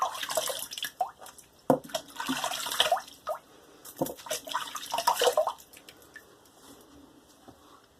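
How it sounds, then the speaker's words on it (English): Face rinsed with running water after a wet shave with a Merkur Futur safety razor: irregular splashes and trickles at close range, louder bursts of cupped water against skin separated by quieter drips, no talking. "let me have a rinse off"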